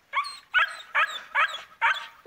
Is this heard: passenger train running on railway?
no